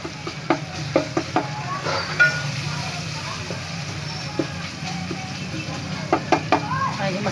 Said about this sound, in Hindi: टमाटर को अच्छी तरह मैश कर लेंगे चमचे की मदद से।